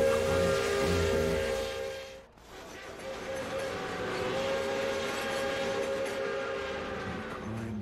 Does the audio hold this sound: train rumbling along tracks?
yes